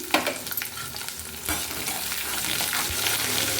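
Chopped green chillies frying in a hot pan, a close continuous sizzle that swells after a sharp clatter, with intermittent scraping and stirring knocks.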